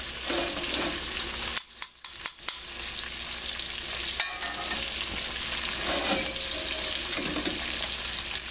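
Cornmeal-encrusted chicken thighs frying in a pan, a steady, fairly quiet broadband sizzle and crackle running throughout, briefly broken by a few clattering knocks; nobody talks.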